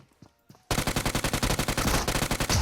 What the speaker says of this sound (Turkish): Onu vurdum.